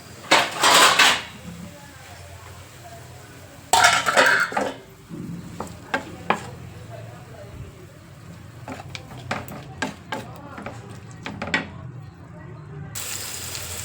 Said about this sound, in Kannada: ಅವರೆಕಾಯಿನೂ ಹಾಕಿ ಹುರಿತಾ ಇದ್ದೀನಿ